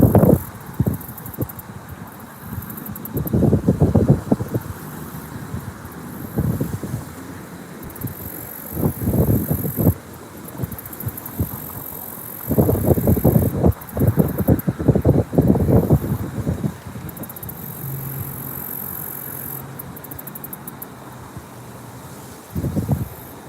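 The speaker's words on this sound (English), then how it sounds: "it's pretty windy here on the small pond" Wind buffets the microphone beside a small pond in loud, low rumbling gusts that come and go, with a faint steady hiss underneath.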